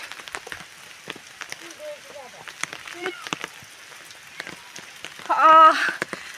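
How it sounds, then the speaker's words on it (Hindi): Steady rain patters on a surface with scattered drops, while people talk quietly nearby and a brief louder sound rises near the end. "बारिश हो रही है"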